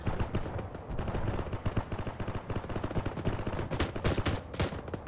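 Rapid bursts of gunfire in the video game Arma 3 crackle nonstop, dense automatic fire mixed with single shots, loud and close.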